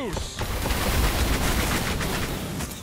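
A barrage of shots in the medieval combat game Warlander, a dense continuous roar of overlapping blasts and rumble lasting a few seconds, loud and unbroken, with no talk.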